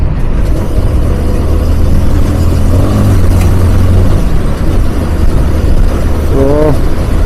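Heavy road traffic passes around a delivery rider on a scooter, a steady dense rumble of car and motorbike engines with a brief horn-like toot near the end, loud and continuous throughout.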